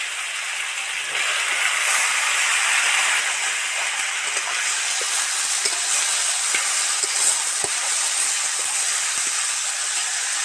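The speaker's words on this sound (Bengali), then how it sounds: "তাড়াতাড়ি ভাজা হওয়ার জন্য একটু নুন ছড়া দিচ্ছি" Carrot, potato, kohlrabi, radish and tomato frying in hot oil, giving a steady, loud sizzle and hiss with occasional soft stirring clicks, close up and without talk.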